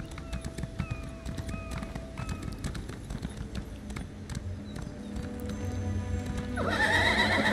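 A horse in the video game Elder Scrolls Online gallops with rapid, steady clip-clop hoofbeats, then lets out a loud, close neigh near the end.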